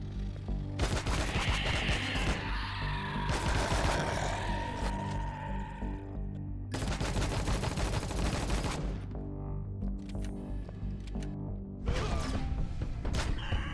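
Sustained gunfire and mechanical clatter from the video game Empyrion, long dense stretches of shooting broken by short gaps, with other game sounds mixed in.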